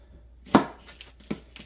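A knife chops through washed celery on a cutting board, giving one sharp close thud followed by a lighter second cut, with no talking.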